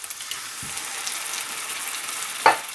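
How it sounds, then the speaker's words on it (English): Chopped tomatoes sizzling in a frying pan with oil and butter for a homemade butter chicken, a soft steady crackle with a brief stir or clink near the end. "Now add a tin of chopped tomatoes."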